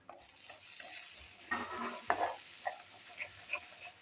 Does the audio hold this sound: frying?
yes